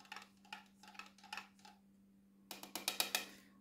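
Spoon stirring fermented milk kefir in a container, a quiet series of rhythmic clinks and scrapes, then a quicker cluster of sharper taps, all close up with a steady low hum beneath.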